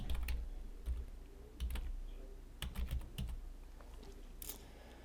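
Quiet, irregular clicking of keys on a computer keyboard as an application name is typed in, short bursts of keystrokes with brief pauses, close and soft.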